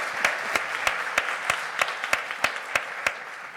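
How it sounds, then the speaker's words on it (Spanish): Applause for two children at a public event, heard as a sparse, slow round of about a dozen evenly spaced claps, distinct and moderately quiet, with faint crowd noise between them. "Un fuerte aplauso, por favor."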